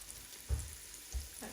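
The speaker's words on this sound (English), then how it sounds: "we now have a sizzle on the onion" Onions sizzle steadily while sauteing in a Ninja Foodi pressure cooker, a continuous close crackle with two soft thuds of stirring.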